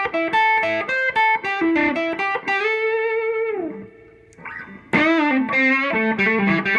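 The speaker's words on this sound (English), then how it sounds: "if you roll your volume down, cleans up very nicely." Electric guitar played clean through a Peavey Studio Pro 112 Silver Stripe amp with the guitar volume rolled down, ringing chords and melodic phrases that sustain, fade almost to nothing, then return with a strong strummed attack.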